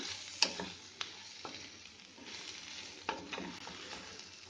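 Spatula stirring bitter gourd with turmeric and Kashmiri red chili in a pan, a steady soft sizzle beneath a few distinct scraping strokes and light taps against the pan, close and moderately quiet, no talking.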